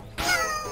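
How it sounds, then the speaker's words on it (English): A single short cat meow sounds in the video game Buddy Simulator 1984, a clear, close, high rising-then-falling call lasting under a second. "Meow!"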